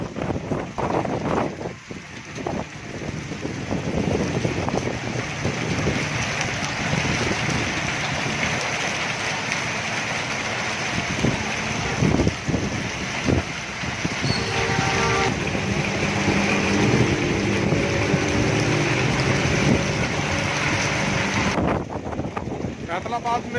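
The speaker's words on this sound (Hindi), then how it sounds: "खूब बारिश पड़ रही है जी।" Heavy downpour over Jhumra City in Faisalabad district, a dense, loud, continuous hiss of rain with wind buffeting the microphone and some low rumbles, with someone talking over it.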